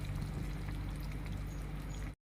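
Soy sauce pours in a steady, close stream into simmering gravy for chilli prawn, a continuous liquid trickle over a low bubbling bed that cuts off abruptly near the end.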